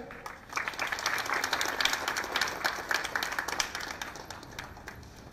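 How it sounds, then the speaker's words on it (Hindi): An audience at a church Holy Mass event applauds steadily, welcoming a youth dance performance. The clapping is dense, sustained and moderately distant, with a light crowd murmur and no clear speech. "हम सब जोरदार ताली से उनका स्वागत करें।"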